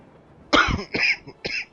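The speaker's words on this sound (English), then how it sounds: "I got a little bit of a cough still" Three short, harsh coughs in a row, close to the listener, with brief pauses between them and no talking.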